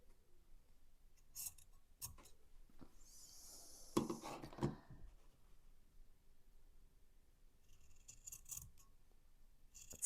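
Scissors snip through quilting fabric scraps while a pineapple quilt block is trimmed, with a few short, soft cuts spread across a quiet background and no talk.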